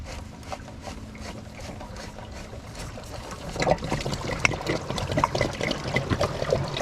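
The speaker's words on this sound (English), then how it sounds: "Now that we got the drain plug, we can open our air relief to allow this water to drain." Water trickles and splashes steadily from the open drain plug at the bottom of an inground pool filter during pool closing, growing louder and more gurgling halfway through.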